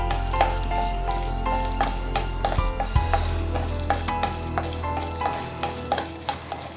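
Dried red chillies crisp up in a little coconut oil while a spoon stirs and scrapes the pan in a regular rhythm over a constant close sizzle.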